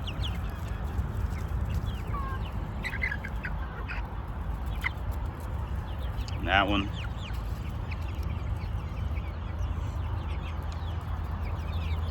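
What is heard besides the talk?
chickens clucking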